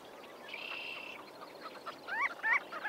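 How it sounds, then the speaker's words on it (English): Marbled godwits, gull-sized shorebirds with long pale orange bills, call in flight as they circle low over a sandbar at a lake. Sharp rising calls come in a short burst near the end, after a faint steady hum. "of marbled godwits is circling low over the sandbar, calling"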